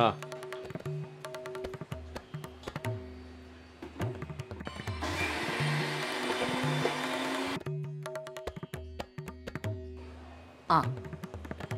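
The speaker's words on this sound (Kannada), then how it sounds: "ಉದ್ದಿನ ಬೇಳೆ ರುಬ್ತಾ ಇದ್ದಾರೆ ಈಗ" An electric wet grinder grinds soaked urad dal in a home kitchen, a steady broadband whirring that fills the middle of the clip, with clattering, thuds and a voice around it before and after.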